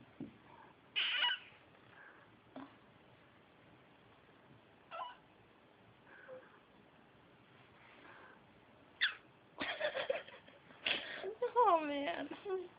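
A house cat gives a few scattered meows amid quiet indoor sounds, brief and fairly faint at first, then a denser flurry of cries and scuffling near the end.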